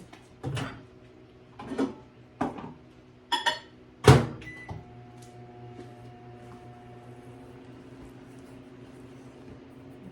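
A microwave oven melting half a stick of butter runs with a steady low hum after several door and button clunks and beeps near the start, the drone continuing alone to the end.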